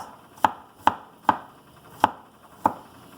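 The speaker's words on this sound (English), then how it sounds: "I'm gonna chop the garlic to make my salmon fish." Garlic being chopped with a knife on a cutting board, five crisp, close knocks spaced roughly half a second apart with quiet between, no talking.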